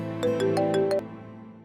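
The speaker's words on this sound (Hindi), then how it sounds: "जुहान का फोन है, उठाओ ना।" A mobile phone ringtone in a domestic drama scene, a short bright electronic melody of about six quick notes played once, clear and moderately loud, then cutting off.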